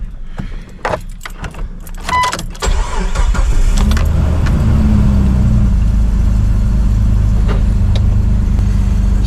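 Keys jingle briefly, then a Jeep TJ engine cranks and catches, settling into a steady, loud idle that continues to the end.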